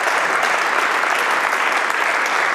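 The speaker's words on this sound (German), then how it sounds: "Einen kräftigen Applaus" Steady, dense applause from an audience at a panel event on a stage, loud and continuous throughout with no voices over it.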